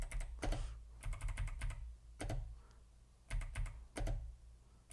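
Computer keyboard keys tapped in quick bursts of clicks with short pauses, close and clear, while playing DOS Tetris from 1988; no voices.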